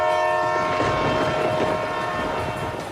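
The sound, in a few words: train, the Antyodaya Express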